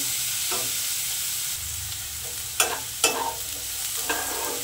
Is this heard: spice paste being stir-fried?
yes